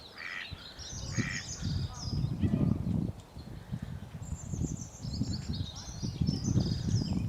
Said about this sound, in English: It's a duck that's just set off.